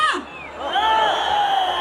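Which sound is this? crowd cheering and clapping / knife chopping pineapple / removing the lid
crowd cheering and clapping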